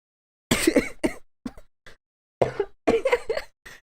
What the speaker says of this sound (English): I become the coughing man